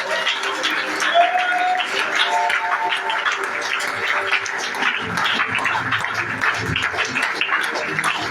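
A church revival congregation in Bingerville claps in sustained, loud applause to acclaim Jesus, with voices calling out over the steady clapping.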